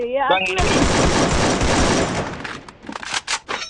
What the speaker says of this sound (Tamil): AK-47 எப்படி ப்ரோ அடிக்கிறது?